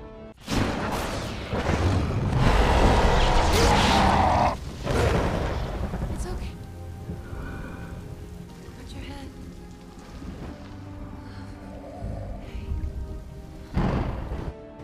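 Heavy rain pours steadily in a film scene while thunder rumbles, a loud broadband wash that swells early and then eases, with a voice speaking briefly over it.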